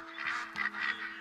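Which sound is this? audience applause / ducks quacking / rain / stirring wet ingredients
ducks quacking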